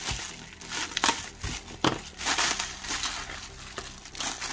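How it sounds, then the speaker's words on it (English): Bubble wrap packaging comes off an action figure with crinkling and crumpling plastic, irregular bursts of rustling and rubbing that rise and fall close up, with no talk. "Again, more bubble wrap here. Just cut a bit of tape."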